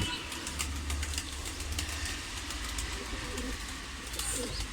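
Pigeons coo steadily on a balcony in rainy weather, their low repeated calls close and continuous over a constant wash of rain and faint background noise.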